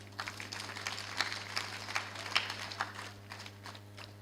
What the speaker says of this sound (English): Let's give a hearty clap to Dr.